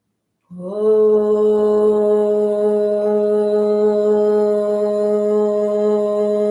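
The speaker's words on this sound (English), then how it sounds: "So this is the sound of Om." A single sustained chanted Om, steady and resonant with rich overtones, starting after a brief silence and held evenly without pause.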